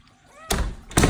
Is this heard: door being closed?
yes